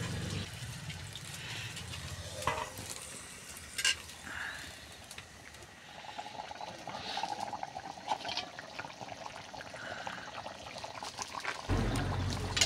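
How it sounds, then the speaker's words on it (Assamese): A pot of meat curry with potato and kohlrabi bubbles on the stove, giving a soft, continuous liquid burble and sloshing, with a few faint clinks along the way. "আঞ্জাখিনি সুন্দৰকৈ উতল আহিছে"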